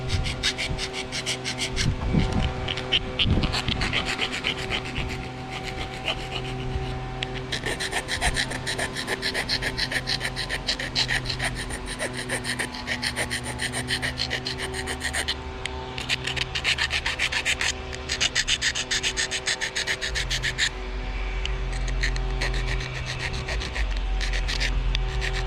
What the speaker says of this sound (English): And now this is pretty sharp, so go ahead and grind.